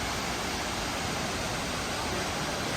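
Water pours down a big Slovenian waterfall near Lake Bohinj at the top of a steep stairway, a constant loud broadband roar close at hand that fills the whole moment without a break.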